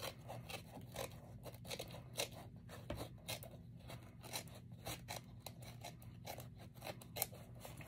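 Scissors snip through paper for an envelope journal in a rapid run of short cuts, each with a crisp scrape, recorded close and steady with no one speaking.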